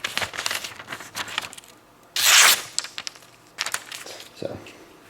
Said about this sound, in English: I just kind of grip the very edge of the paper and peel it across and make like a little curly cue.